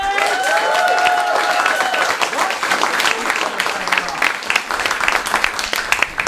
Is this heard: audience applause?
yes